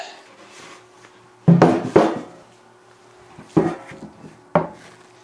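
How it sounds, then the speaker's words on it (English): A 16-inch four-post planer's cutterhead assembly and gearbox slide out with four close, heavy metallic clunks and scrapes separated by quiet pauses, with no talking. "We're going to slide the whole cutter head assembly and gearbox gently out"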